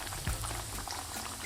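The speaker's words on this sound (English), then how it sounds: "we're going to shallow fry this for 5 to 6 minutes until we have a nice golden brown color" Chicken katsu shallow fries in hot oil, a dense, continuous sizzle and crackle that stays loud and close throughout, with a brief low thump near the start and no talking.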